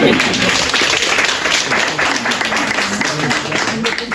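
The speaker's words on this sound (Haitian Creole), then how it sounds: "On applaudit." Audience applause at a family surprise celebration, a dense steady wash of many hands clapping for about four seconds, loud and continuous with no break.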